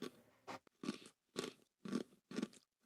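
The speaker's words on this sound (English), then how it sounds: "Let me finish munching." Someone munches food close to the mic, a steady run of five crunchy chewing bites in a regular rhythm, quiet and with no talk.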